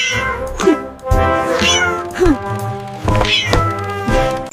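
A cat meows several times in a row, close and clear, with harmonic mewing calls spaced about a second apart.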